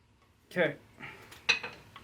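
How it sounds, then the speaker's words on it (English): Metal clanks and scrapes as a piston is pushed out of a Ford 172 engine block during a bottom-end teardown, with a few sharp, close knocks spread over two seconds. "and out comes the piston"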